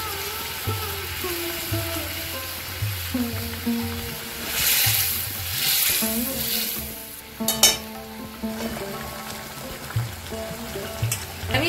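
Raw prawns dropped into a pan of curry with a little water and sugar, bubbling and sizzling loudly up close, joined by a rush of hissing and several metallic clatters of utensil against pan.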